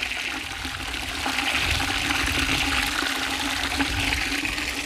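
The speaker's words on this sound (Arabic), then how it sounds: "الان نبدأ بملء السطل، شايفين اللي فيه الحديد والسماد، وانت بتعبي فيه خلط" Water gushing steadily into a bucket holding fertilizer for mixing, a continuous loud rushing pour for about five seconds with no talk over it.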